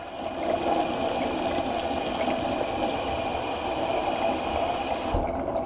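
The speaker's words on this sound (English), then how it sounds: "the microphone on this GoPro is pretty sensitive, so probably picking up all that rain." Heavy rain pouring steadily, picked up loudly by a sensitive GoPro microphone, a dense continuous wash with no gaps that cuts off abruptly at the end.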